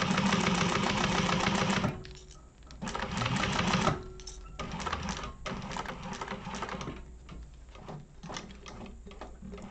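Sewing machine top stitching along the side of a fabric zip bag, loud rapid mechanical stitching in bursts with short pauses between runs.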